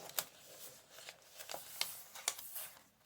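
Paper book pages being folded for a Christmas angel, soft close rustles and light creases in a loose sequence of about six quiet swishes.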